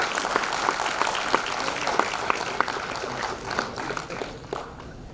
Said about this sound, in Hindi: तालियां कम बजा रहे हैं।